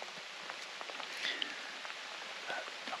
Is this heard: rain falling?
yes